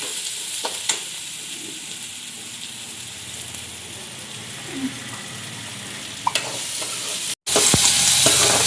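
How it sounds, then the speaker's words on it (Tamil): Masala fries in a pan at home, a continuous close sizzle with stirring scrapes and occasional clinks, alone without talk. "மசாலா போட்டு வறுக்கிறோம்ல"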